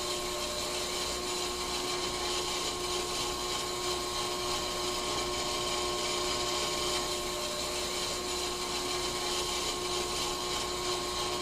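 A brake part is cleaned on the brake station in the video game Car Mechanic Simulator 2021: a steady, unbroken machine whir with a gentle scraping grind holds an even level throughout.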